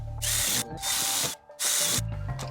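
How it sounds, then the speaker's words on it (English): A power drill bores through a plexiglass window panel held at the edge of a table, whining loudly in three sustained bursts separated by brief pauses, close and alone. "we're gonna go ahead and drill them all the way through now"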